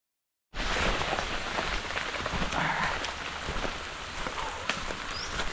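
Steady rain pours on a boat camping trip, a dense, close hiss with scattered sharper drops pattering on surfaces, beginning abruptly and continuing without talk.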